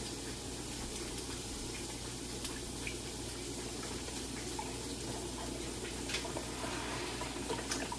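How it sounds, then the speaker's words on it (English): A cup of beef broth pours into a baking dish with a soft, steady liquid trickle, quiet and continuous over low background noise. "Add a cup of beef broth"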